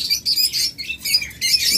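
Red-eye birds with red heads, kept as a pair for sale, give a continuous run of high, thin chirps and tweets close by, overlapping in quick bursts with no voices.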